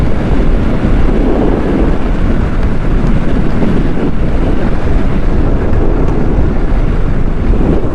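Strong wind blasting across a microphone on an expressway construction site while dust flies, a loud, continuous rumbling buffet with no pauses or voices.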